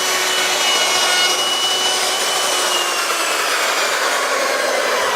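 A panel router cutting a stop dado in particle board gives a loud, steady high-pitched whine with a rough grinding edge. It runs without a break from start to finish and no one speaks.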